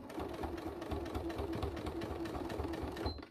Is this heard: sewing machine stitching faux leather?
yes